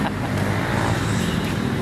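Steady road traffic on a rainy afternoon, a continuous low rumble of cars and motor vehicles filling the street without pause, close and fairly loud with no distinct single pass standing out.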